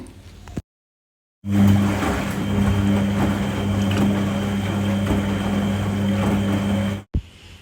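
A household washing machine running a load of clothes: after a brief silence, a steady low motor hum with sloshing, churning water noise holds evenly for several seconds, then cuts off.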